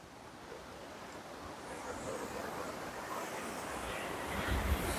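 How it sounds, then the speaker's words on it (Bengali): Ocean surf rolling onto a beach at Rock Swing Beach in Thailand: a steady, broadband wash of waves and wind, fairly faint and continuous, swelling slightly louder toward the end, with no voices. "ঢেউটা যা সুন্দর লাগছে, সমুদ্রের ঢেউটা"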